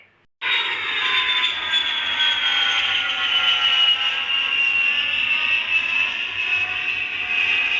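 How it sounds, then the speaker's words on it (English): An aircraft cabin depressurization alarm sounds as a loud, continuous high-pitched warning tone that starts abruptly and holds steady over a low engine rumble, with no voices. "Oh no! The cabin depressurization alarm!"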